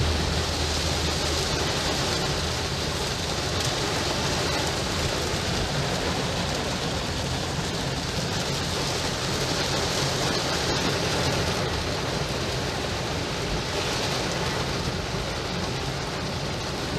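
Steady rain falls in Lahore, a constant, dense hiss of drops that stays even throughout, with no voices.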